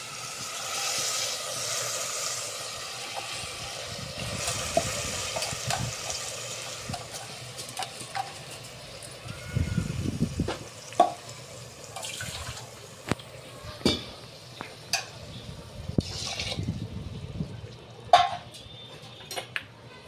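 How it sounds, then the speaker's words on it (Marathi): Hot water is poured into a pot of washed rice for jeera rice, soft splashing and trickling in short bursts with drips and clinks of utensils, quiet and close, no talking. "गरम पाणी टाकायचं या भातामध्ये"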